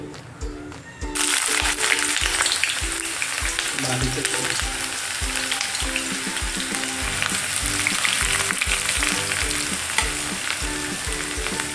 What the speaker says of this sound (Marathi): तर चला मित्रांनो आपण आपला कांदा फ्राय करून घेऊ